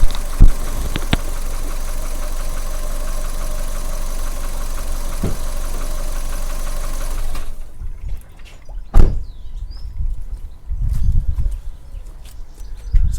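A car engine with a suspected blown head gasket idles with a steady, dense rumble for several seconds, then cuts out, leaving quieter clunks and low thumps nearby.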